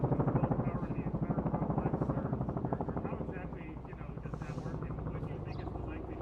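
A helicopter's rotor thumps in a steady rapid pulse throughout, close and loud, while a person speaks over it at an apartment explosion site.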